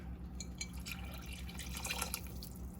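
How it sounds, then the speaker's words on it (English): A cup of water pours into a pot of creamy bean soup packed with beans and carrots, making a steady, soft trickling and dripping sound that runs throughout. "so I'm gonna add a cup of water"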